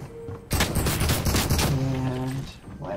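A burst of gunfire in Fortnite at Craggy Cliffs starts abruptly after a quiet moment, with rapid loud shots for about a second before fading into tonal game effects.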